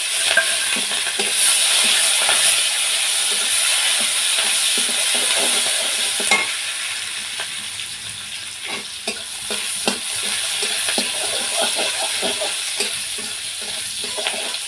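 Chopped onion and green chillies frying in oil with cumin seeds, bay leaf and a dried chilli, a loud steady sizzle and hiss close by, with light stirring taps toward the end and no voices.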